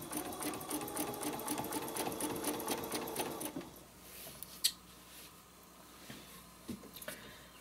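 Sewing machine running steadily for about three and a half seconds while stitching off a chevron line into the seam allowance of a spider web quilt project, then stopping, leaving faint clicks and handling noises.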